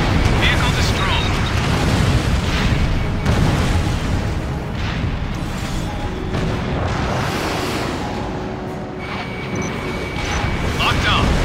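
Explosions and booms from an aerial combat game, Ace Combat Infinity, roll on steadily at high volume through the whole stretch, with a radio-style voice speaking over the dense rumble.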